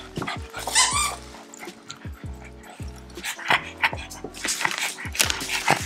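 A mini Pit Bull dog whimpers and yips in short, repeated bursts mixed with a loud rhythmic thumping, close by and fairly busy throughout.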